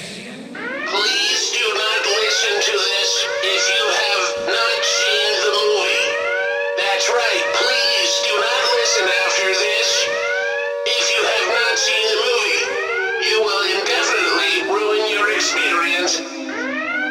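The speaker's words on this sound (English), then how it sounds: "You should have heard the alarm." A loud wailing alarm siren used as a sound effect, its pitch rising and sweeping in repeated whooping cycles that run steadily for the whole duration.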